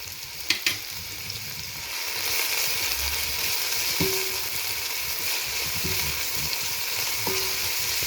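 Onions sauté in a pan with ginger-garlic paste stirred in for tomato rice, giving a steady oily sizzle throughout with a few sharp utensil clicks and stirring scrapes.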